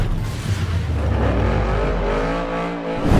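A 1960s Shelby Cobra classic race car engine roars loud and close, holding a steady, throaty drone, then swelling again as it revs near the end.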